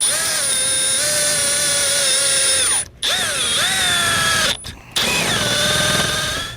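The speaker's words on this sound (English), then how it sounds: "we're going to drill out since there's nothing on that other side" A power drill whines loudly and steadily while drilling a hole through metal, bogging down and cutting out twice before spinning back up, with a high-pitched grinding edge of the bit biting metal.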